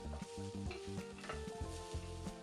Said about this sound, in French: dans une sauteuse à feu moyen, une cuillère à soupe d'huile. Faire revenir l'ail et l'oignon 20 secondes. Ajouter la pâte de piment ainsi que son huile.